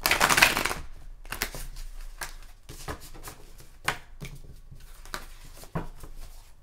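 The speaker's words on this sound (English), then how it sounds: "You guys, don't laugh at me shuffling." Oversized, extra-wide tarot cards being shuffled by hand, giving close, soft papery riffles and taps in irregular bursts, with a louder flurry at the start and no talking.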